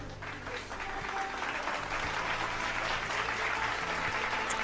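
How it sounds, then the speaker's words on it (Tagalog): Steady, sustained applause from an audience at a Kapampangan family program, many hands clapping at an even level throughout with faint low tones underneath. "Palakpak galing sa pamilyang Kapampangan."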